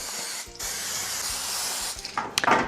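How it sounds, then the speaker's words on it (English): A steady aerosol hiss of cooking spray onto a cookie sheet sprays for about a second and a half after a short burst, ending with a few clicks and rattles of metal close by. "we need to spray our cookie sheets with cooking spray"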